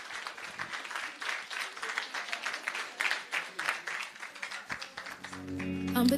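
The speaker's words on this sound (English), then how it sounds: "we can just give them a round of applause" Audience at a charity high tea clapping in a round of applause, a loose, uneven patter of hands at moderate distance that rises and dips over several seconds, with voices mixed in and a brief musical tone entering at the very end.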